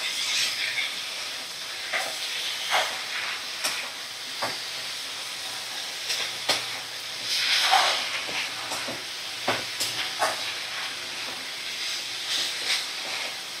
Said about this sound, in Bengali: এবার ভালো করে আমি নাড়াচাড়া করে নেব।